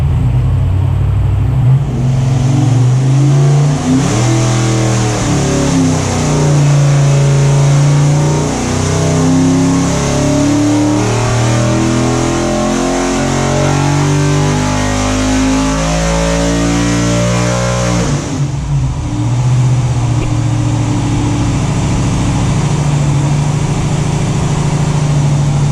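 Car with a big engine fitted with RHS heads, making 650 horsepower naturally aspirated on an engine dyno, revs loudly and close up, its deep roar rising and falling through sustained pulls with brief drops in between.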